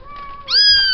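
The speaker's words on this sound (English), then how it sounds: "Meow." A Bengal cross Persian cat gives a single loud, drawn-out meow, rising at onset and holding steady for about half a second, close to the microphone with no talk over it.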